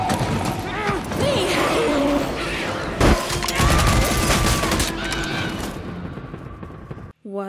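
Gunshots and chaotic crashing in the animated series Arcane, dense, loud bursts with a sharp blast near the middle, mixed with dramatic score and voices, before cutting to near silence at the end.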